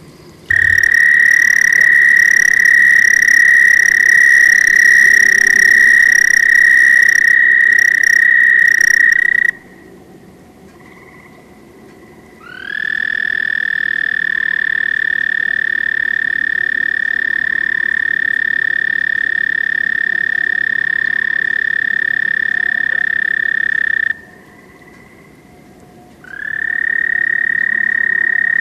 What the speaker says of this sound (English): Well, that was a sound of a frog, actually a toad, the American toad.